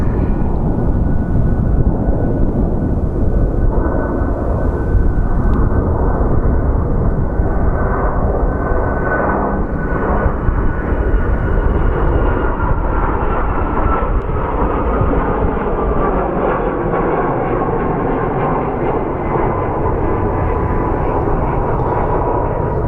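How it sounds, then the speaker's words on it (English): A United Boeing 737 MAX departs Sky Harbor airport in Phoenix, giving a steady, loud jet roar that holds broadband and low-heavy for the whole stretch with no talking over it. "There's our United 737 MAX departing for Newark."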